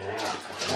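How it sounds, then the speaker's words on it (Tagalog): Pet dogs in a house bark and whimper briefly, a short, fairly faint burst of canine noise with no talk. "Yung mga aso ko,"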